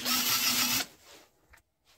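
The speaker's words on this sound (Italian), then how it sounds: "potete andare a passare con una spazzola di ferro, questa qua. Automaticamente andate a spazzolare" An iron wire brush spun by a drill scours paint off a bicycle frame in a loud, gritty burst under a second long, then drops to faint scraping and silence.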